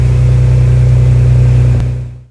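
A Ford Explorer ST engine idles steadily just after starting, a loud, close, even low hum with no audible misfire, cutting off abruptly near the end.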